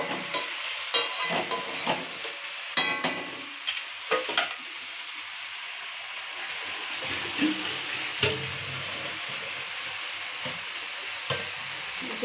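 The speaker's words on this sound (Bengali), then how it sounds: "এখন এটা হাই ফ্লেমে রয়েছে, গ্যাসটা হাই ফ্লেমে রয়েছে। লাল শাকটা ভাজা হচ্ছে করতে।" Red amaranth greens fry in a pan over a high gas flame, giving a steady, close sizzle broken by sharp clatters of stirring, with no talk.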